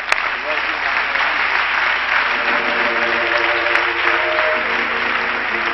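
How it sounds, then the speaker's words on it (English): A church congregation claps their hands together at a 1998 revival service, a loud continuous patter running throughout, with voices and tones sounding beneath it. "Shall we all clap our hands again unto the Lord"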